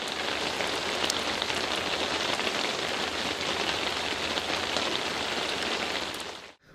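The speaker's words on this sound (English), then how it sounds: "rain pouring down." Heavy rain pours down steadily, a dense, even hiss of drops beating on surfaces for several seconds before cutting off abruptly at the end.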